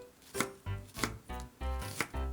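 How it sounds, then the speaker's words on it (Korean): A knife chops half an onion into thick pieces on a cutting board, giving five evenly spaced, close, crisp thuds. "양파 반 개 두툼하게 잘라주세요"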